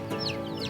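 Young chicks peep in a poultry farming setting, two or three thin high chirps close by over a steady humming background.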